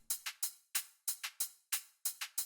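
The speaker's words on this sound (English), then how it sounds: "This is a clap. I tend to take the tail of the claps to make my percussions," Electronic dance music percussion loop built from clap tails, crisp short noisy hits falling in uneven grouped polyrhythmic patterns that repeat across a couple of bars, close and dry, with no talking.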